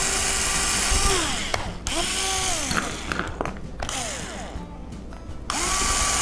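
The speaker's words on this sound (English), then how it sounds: "we're going to drill the holes through the motor mounts" A power drill with a 1/8 inch bit bores holes through motor mounts in several bursts, whining up and down in pitch with short pauses between runs.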